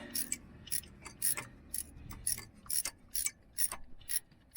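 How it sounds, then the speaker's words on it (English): Ratchet wrench tightening a starter motor bolt on a 2000 Acura 3.2 TL, a rapid series of sharp metallic clicks in short uneven bursts, close and moderately loud. "thread it in by hand, and then get our wrench on it"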